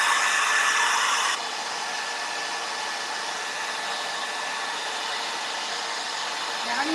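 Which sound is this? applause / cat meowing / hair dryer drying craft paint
hair dryer drying craft paint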